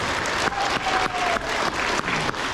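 Elementary school awards audience giving a round of applause for honor roll winners, steady dense clapping with a few brief dips, moderately loud and continuous.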